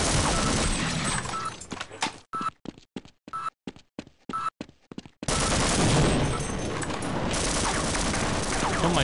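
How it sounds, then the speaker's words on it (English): Automated turrets in Half-Life fire a sustained, loud barrage, break into a stuttering string of separate shots, then resume continuous fire. "Stop shooting me. Evil turrets."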